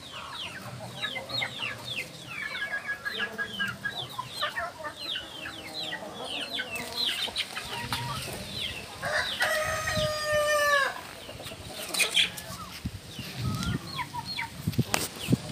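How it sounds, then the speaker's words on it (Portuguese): A naked neck rooster crows nearby amid steady hen clucking and chirpy calls from a flock, with several overlapping crows in the middle and a busy farmyard background throughout. "galo do pescoço pelado."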